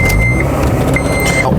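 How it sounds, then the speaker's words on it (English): Steady broadband road and tire noise from a supercharged 8th-generation Honda Civic Si on Federal RSR tires, heard from inside the cabin while driving, fairly loud and continuous, with a faint intermittent high tone above it. "the car is semi-loud, good amount of road noise, mainly because of the tires"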